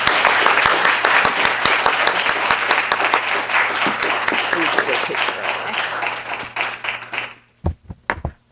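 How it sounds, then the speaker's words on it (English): A lecture audience at NEMCC gives loud, sustained applause for Dr. Emily Pollard, Humanities Teacher of the Year. The clapping fades after about seven seconds into a few scattered claps. "Let's give another round of applause for Dr."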